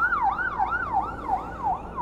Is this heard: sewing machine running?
no